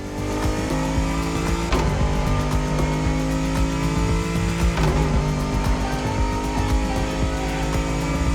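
Race cars in The Crew Motorfest roar continuously at close range, engines droning loud with shifting revs and occasional tire squeal, no voices over them.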